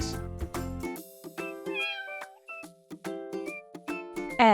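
A cat meows repeatedly in short, clear, close calls with brief pauses between them, and a louder, sharper meow comes at the end.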